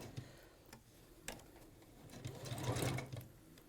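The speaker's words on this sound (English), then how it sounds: "you're sewing a straight edge to a curved edge" Domestic sewing machine stitching a straight fabric edge to a curved edge while quilting, a steady quiet mechanical whir and rapid ticking throughout, swelling slightly toward the end, with no talk.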